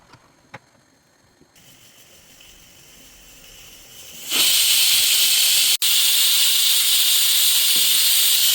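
Quiet background gives way to a loud, sustained hiss of escaping steam from a pressure cooker whistle, building suddenly and continuing steadily, broken once by a brief dip.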